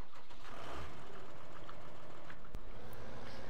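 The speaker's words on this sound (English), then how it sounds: "let's hop over to this tractor." Tractor engine running steadily in Farming Simulator 15, a low continuous idle rumble heard alone with a brief click partway through.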